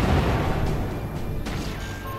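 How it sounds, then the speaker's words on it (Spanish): A heavy boom with a rumbling crash that decays over a couple of seconds, a cannon firing in the game Forts. "nuestro cañón ya está a punto para disparar de nuevo."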